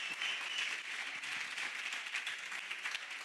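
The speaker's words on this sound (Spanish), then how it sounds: "Vamos a empezar con un aplauso muy fuerte para vosotros" An audience at a physiotherapy gala evening in Cantabria claps, a dense, even applause that stays fairly faint and steady, heard alone throughout.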